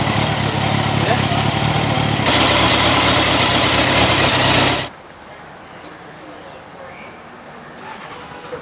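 A motorbike engine idles with a steady rumbling drone for several seconds, then cuts off abruptly, leaving quiet background.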